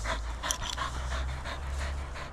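A dog pants steadily after retrieve training, rapid rhythmic breaths up close over a low background hum, with no other sound competing.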